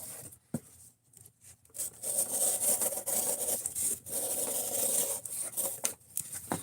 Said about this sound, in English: This might be the hollow grind kicking in, but yeah, it's not happy cutting cardboard up.